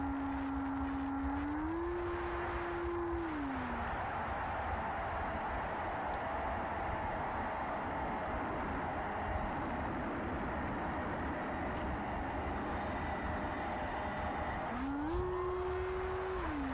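Electric motors on a Hee Wing T1 Ranger RC plane whine steadily in flight, with the pitch rising as the throttle goes up near the start and again near the end, over constant wind and hum.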